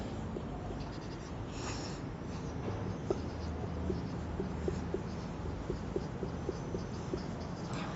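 Chalk or marker writing on a board during a Class Eight maths lecture, faint scratchy strokes and light ticks in a steady intermittent rhythm over a quiet room hum, with no talking.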